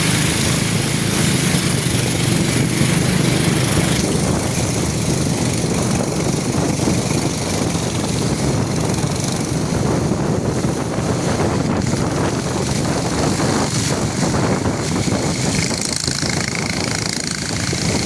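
A motor boat engine running steadily on a river current, a loud continuous drone buffeted by heavy wind rumble throughout, with no breaks or pauses.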